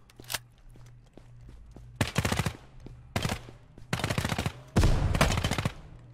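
Gunfire in Ground Branch team deathmatch multiplayer: several bursts of rapid automatic rifle fire, loud and close, separated by short gaps with a lone shot early on.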